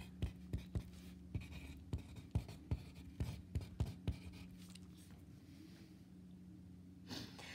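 A pen taps and scratches across paper while writing down a gas-law equation, a quick series of close, faint strokes and dots that slows and trails off, with light breathing and no speech.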